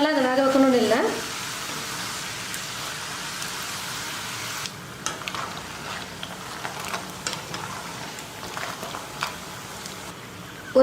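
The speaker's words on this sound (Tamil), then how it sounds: "இதை எண்ணெயில் போட்டுடலாம்" Semolina snacks fry in hot oil with a steady, close crackling sizzle that runs throughout, with a brief voice at the start and scattered small pops and clinks.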